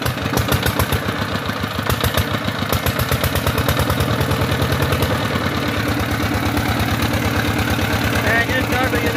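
A farm engine running steadily at close range just after starting, in a garlic-growing field; it gives a loud, continuous rhythmic chugging with fast regular pulses throughout.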